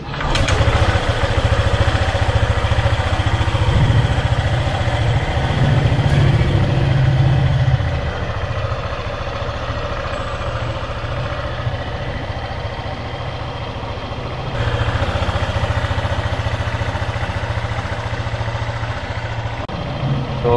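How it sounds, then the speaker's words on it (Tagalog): A motorcycle engine idles steadily after an oil change at 6000 km, a smooth continuous low hum close by, slightly louder at the start and again near the end, with no talking. "iti-testing natin siyang paanda rin kung meron ba tayong makikitang difference sa tunog sa engine natin"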